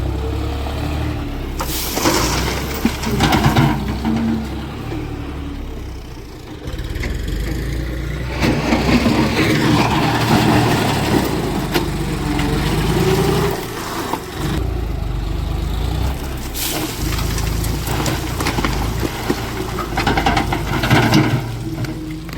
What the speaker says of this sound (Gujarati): લોડર ચાલુ થઈ ગયું મિત્રો.